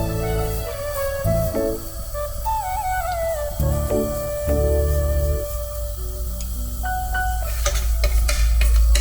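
Cashew nuts frying in a pan for ghee rice give off a steady, close sizzle that runs throughout, with a few stirring clinks and a louder hiss near the end.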